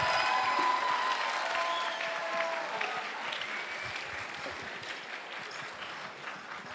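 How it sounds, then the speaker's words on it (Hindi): At a Janmashtami 2018 program at IIT Kanpur, an audience gives a big round of applause for student singers of Meera songs; dense clapping starts full and slowly fades over several seconds. "Please give a big round of applause."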